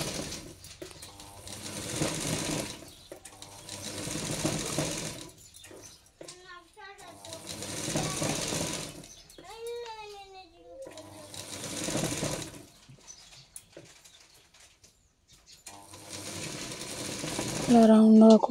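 Sewing machine stitching a flared baby skirt, running in several steady bursts of rapid whirring separated by pauses, with someone talking and chirpy voices in the gaps.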